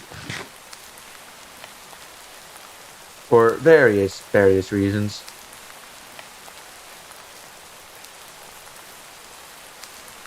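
Steady hiss of rain falling in Minecraft, continuous and moderately loud throughout, with a brief spoken phrase partway through.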